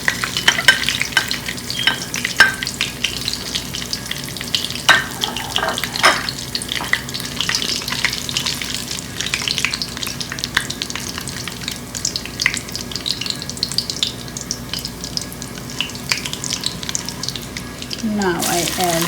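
Cumin seeds and dry spices fry in hot oil for a mutton curry, giving a continuous crackling sizzle. A spoon scrapes and stirs now and then, and a faint voice shows up briefly in the background.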